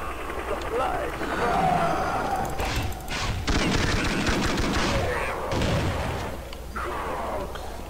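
Dense, continuous automatic gunfire in the zombie mode of Counter-Strike Nexon Zombies, with rattling bursts and booms running throughout. Someone speaks over the shooting.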